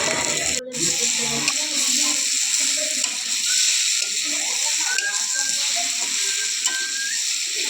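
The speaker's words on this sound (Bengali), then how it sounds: "এবারে ওই মশলাতে ডিপ ফ্রাই করা আলুগুলো দিয়ে দিলাম" Deep-fried potatoes tossed into hot oily spice masala for a vegetarian potato curry, a loud continuous sizzle and hiss close up, with faint stirring beneath and no talk.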